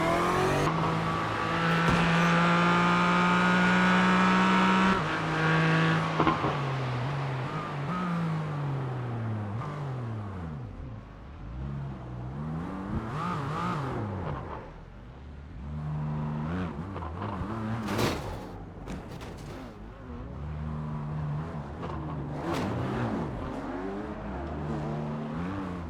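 Race cars in the iRacing simulator roar loudly throughout, engines revving and shifting through gears with sweeping pitch changes as cars pass, a dense, continuous engine drone with occasional tire squeal.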